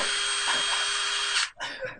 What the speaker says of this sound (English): Why do you have a drill?